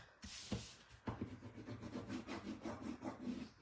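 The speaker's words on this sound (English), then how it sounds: "so give that a good burnish down." Paper is burnished down by hand onto a 5 x 8 handmade album page, making quiet, close, rhythmic rubbing strokes that repeat in quick succession.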